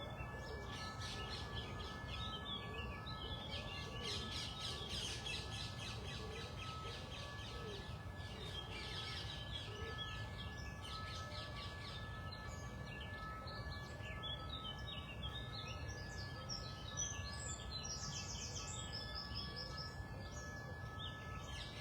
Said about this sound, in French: Tiens, regardez l'oiseau là.